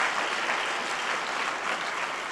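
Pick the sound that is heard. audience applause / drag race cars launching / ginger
audience applause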